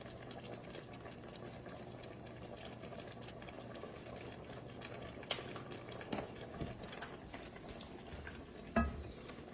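Pepper steak with ginger and pepper flakes simmers in a pan with a faint, steady bubbling sizzle. A few light clicks and taps occasionally break the low, even background.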